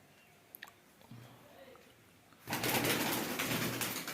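A pigeon cooing softly at close range, a few low rounded coos, followed by a louder burst of rustling or flapping that fills the second half.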